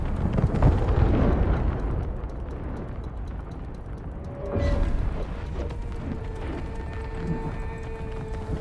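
Explosions in the video game It Takes Two: a loud, rumbling blast opens the clip, and a second burst arrives around the middle, over a continuous roaring, whooshing game soundtrack with tonal effects and no clear speech.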